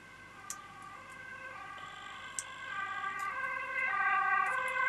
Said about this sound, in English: A lot of ambulance today.